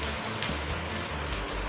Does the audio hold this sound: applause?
no